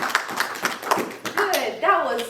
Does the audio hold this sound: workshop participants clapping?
yes